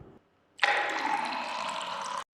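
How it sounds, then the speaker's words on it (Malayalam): Water pours steadily into a pot for almost two seconds, a loud, close, continuous filling rush that starts abruptly and cuts off cleanly, with faint handling sounds before it. "ഇനി വെള്ളം ഇതിലൊഴിക്കാം"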